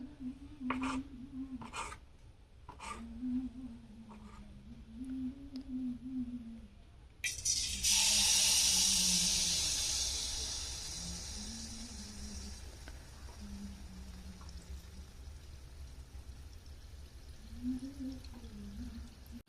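A ladleful of malpua batter hits lightly heated oil, bursting into a loud sizzle that swells and then settles into a softer, steady hiss, while a person talks nearby throughout.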